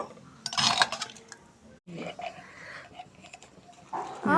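A spoon scrapes and clinks against a pressure cooker while cooked dal fry topped with coriander leaves is ladled out, soft metallic knocks and scrapes with pauses between scoops, fairly quiet and close.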